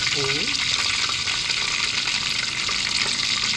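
Star anise, cloves and onions sizzle steadily in hot oil in a pan, a loud continuous frying hiss with a brief clink at the start.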